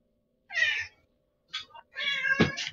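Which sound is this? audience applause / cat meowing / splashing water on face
cat meowing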